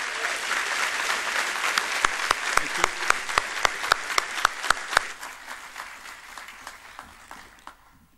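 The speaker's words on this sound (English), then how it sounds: "Big round of applause for the bold Sam" Applause from an audience at an Irish Christmas entertainment show greets the entertainer Sam O'Doherty from Tipperary, a dense steady wash of clapping with a few louder near claps standing out before it thins and fades toward the end.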